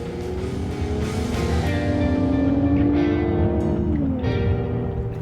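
A 2017 Mercedes-AMG GLC 43 with a bi-turbo V6 accelerating on the road, its engine note rising through the gears with brief dips at shifts, loud and continuous with no talk.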